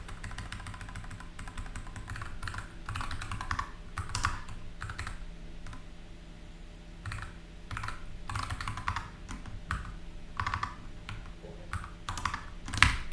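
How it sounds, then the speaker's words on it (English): Fingers type on a nice-sounding computer keyboard up close while writing app code, with quick bursts of clicky keystrokes broken by short pauses. "it's a pretty nice keyboard."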